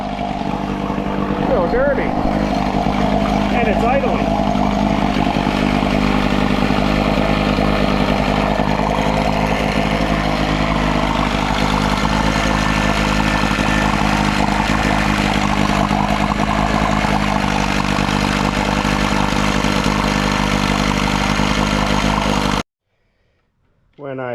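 A Sears Sportsman 9hp outboard motor idles steadily and loudly for over twenty seconds in a continuous mechanical drone with a faint whine, then cuts off abruptly near the end.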